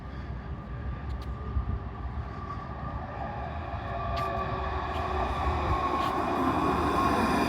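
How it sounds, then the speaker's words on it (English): A tram rolls into a stop along a beachfront line on the Spanish coast, a low rumbling approach with rail hum and faint squeals, growing slightly louder as it nears. "There's the tram coming in."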